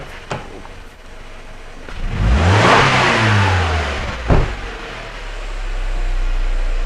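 A car engine with an exhaust leak causing a lean condition is revved up, the roar climbing and holding for about a second before the throttle is released and it drops back to a steady idle, with no voices.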